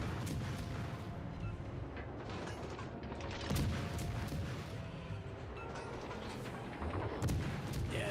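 Ship guns fire at an aircraft carrier in a naval video game, heavy booming shots and rumbling blasts repeating at irregular intervals over a constant mechanical din, no speech.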